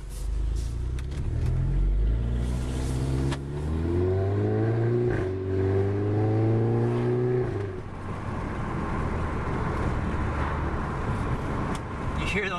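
A 2011 VW GTI with a Neuspeed catback exhaust and Ultimate Racing downpipe accelerates hard in D mode, its loud engine note rising through the gears with crackles on the overrun, close and steady throughout.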